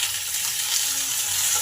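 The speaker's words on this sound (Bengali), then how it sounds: "মাছগুলো দুই দিকটাই লাল লাল করে ভাজা হয়ে গেছে" Fish sizzles steadily in hot oil in a pan, a continuous close frying hiss with no talk over it.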